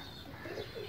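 A soft, low pigeon coo rises briefly and alone, fairly faint and close.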